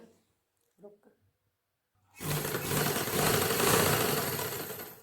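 After a couple of seconds of near silence with brief faint speech, an electric sewing machine stitching a ladies' suit kicks in loud and close, running in a continuous, rapid whirring hum to the end.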